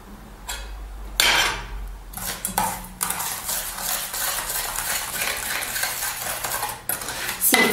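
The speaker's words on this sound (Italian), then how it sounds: "Ok, mescoliamo il tutto." Coarse salt being stirred into oils for a homemade body scrub, a spoon scraping and clinking steadily against a bowl at close range with short pauses, no talking.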